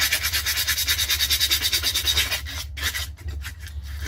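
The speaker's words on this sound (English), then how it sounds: "to clean that up a little bit, take any sandpaper" Sandpaper rubbing the rough bits off the top and bottom of a double-sided clay slip, a close, steady rasping in quick back-and-forth strokes that grow more broken toward the end, with no talk.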